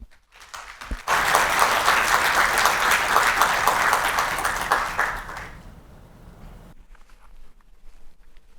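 An audience applauds warmly to welcome an associate professor onstage at a university research lecture on youth justice reform. The clapping is dense and steady for about four seconds, then fades into quieter room ambience.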